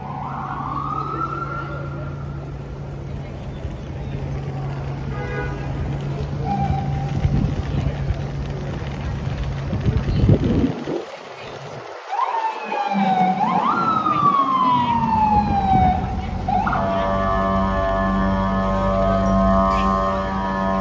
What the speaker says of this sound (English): Always has to be a siren in one of my live streams.